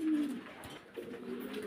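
Fancy pigeons at a farm in Faridpur give soft, low cooing calls, a couple of short murmuring phrases close by in a quiet coop.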